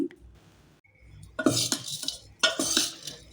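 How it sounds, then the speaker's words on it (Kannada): Girmit snack being mixed with sev and fried peanuts in a metal pan, giving close, brisk bursts of stirring, scraping and utensil clinks in uneven strokes. "ಸೇವೆಲ್ಲ ಹಾಕಿದ ನಂತರ ನೀಟಾಗಿ ಮಿಕ್ಸ್ ಮಾಡ್ತಾ ಇದ್ದೀನಿ."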